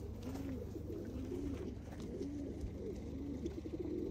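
Tumbler pigeons in a loft at Küçükköy, Ayvalık, coo in soft repeated rolling phrases, several calls overlapping over a steady low background hum.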